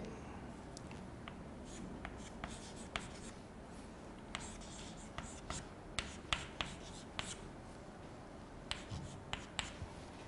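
Chalk or marker writing on a board during a maths lesson on differentiating trigonometric functions, making faint scratchy strokes and sharp taps in an irregular rhythm, quiet and close.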